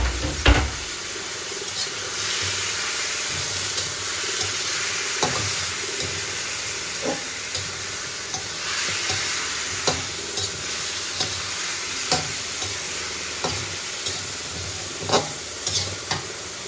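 Beef sizzles and fries in a pan with soy sauce while being stirred, a steady close hiss broken by repeated scraping and clacking strokes of the spoon, with no talking.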